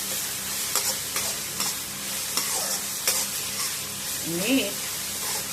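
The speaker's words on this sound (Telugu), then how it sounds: "మిక్స్ చేసి మగ్గనిద్దాం." Onions are stirred and cooked in a pan for an aloo matar fry, giving a soft continuous sizzle with regular spoon scrapes and a brief faint vocal sound near the end.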